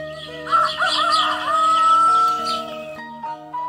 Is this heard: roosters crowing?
yes